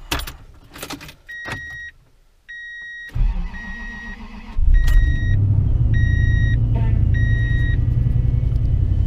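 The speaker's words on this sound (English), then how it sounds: "we're going to do a cold start." A Toyota Tundra with a 4.7L engine does a cold start in freezing weather around minus 12: a chime beeps repeatedly, the starter cranks, then the engine catches and settles into a loud steady rumbling idle.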